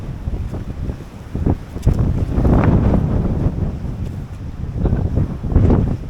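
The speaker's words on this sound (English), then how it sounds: "it is blowing a hoolie. It's gusting to about 50 miles an hour today" Strong wind gusts to about 50 mph on the Cornwall coast, roaring and buffeting the microphone in surging waves that are loud and close, with the sea rumbling underneath and no talk.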